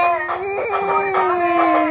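A rooster crows at a chicken shop in Wardha: a single loud, sustained, tonal call lasting about two seconds, heard close and alone.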